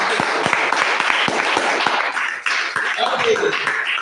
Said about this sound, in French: Applaudissez le Seigneur.